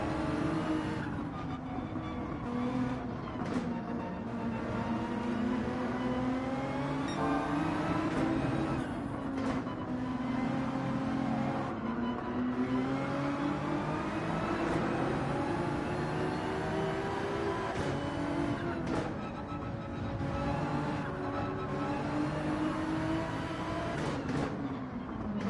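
Ferrari and Porsche race cars in Gran Turismo 7 hold a loud, steady engine drone for the whole stretch, pitch wavering up and down through gear changes, with no talk over it.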